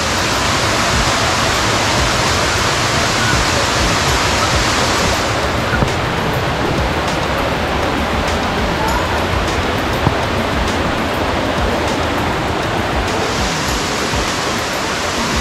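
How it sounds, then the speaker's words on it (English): Water rushes steadily at Rutledge Falls, a loud, close, unbroken roar that fills the whole span with no clear voices over it. "Check out there, the waterfall area."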